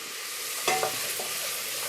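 Portuguese fish stew ingredients with water and a fish stock cube sizzling in a pot, under a steady frying hiss, with a couple of brief soft scrapes of stirring.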